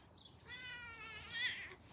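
A calm cat meows once in a garden, a drawn-out, rising-and-falling call lasting over a second, near and clear over quiet surroundings, with no talk.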